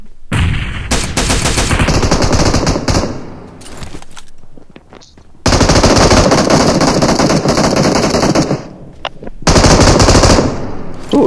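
Automatic gunfire in PUBG Mobile, long loud bursts of rapid machine-gun shots with brief pauses between volleys, close and dominant with no talk over them.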